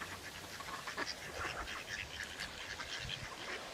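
Ducks quack softly in a loose, scattered chorus outdoors, faint and close by, with no other sounds over them.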